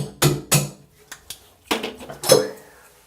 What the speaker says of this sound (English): Stick the seat wrench in, make sure it's firmly all the way into that seat. You can even tap it.